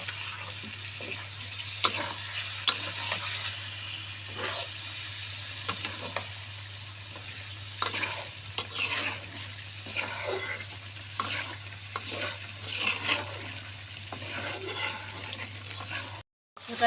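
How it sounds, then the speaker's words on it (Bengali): Chicken pieces and potatoes with turmeric and chili paste are stirred in a hot pan, giving a steady sizzle with frequent scraping and clattering strokes, close and unbroken until a short silence near the end. "আমি কিছুক্ষণ এটা কষতে থাকবো।"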